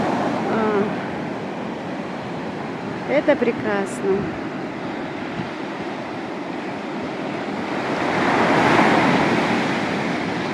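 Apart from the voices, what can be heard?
sea waves breaking on shore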